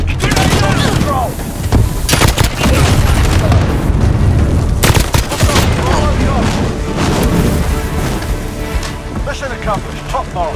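Grenade explosion in the Call of Duty Modern Warfare video game, heard as loud booms amid dense gunfire bursts and battlefield noise throughout, with radio-style voice callouts over the mix.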